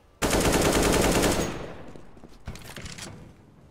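Counter-Strike gunfire on the Train map during an esports cup match: a loud, close burst of rapid automatic fire lasting over a second, then a fading tail and a shorter second burst.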